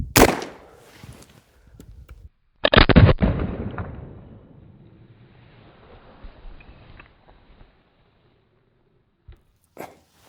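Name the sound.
gunshot fired at a playing card target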